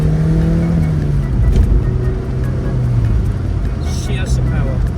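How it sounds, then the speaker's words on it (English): Engine of a 2006 Mazda MX-5 NC accelerating, a steady loud drone that rises in pitch as the car pulls, with a voice briefly audible over it near the start. "She has some power."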